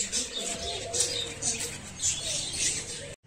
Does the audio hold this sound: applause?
no